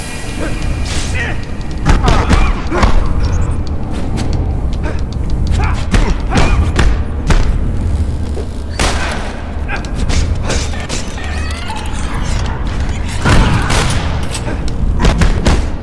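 Enemy gunfire in the Spider-Man 3 video game comes as loud bursts of shots and heavy thumps. Action effects overlap, with a voice talking over them.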